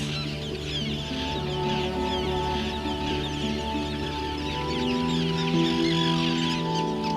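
Roseate tern chicks handled at a Ram Island nesting colony, giving continuous thin peeping calls close by over a steady background hum, with no speech.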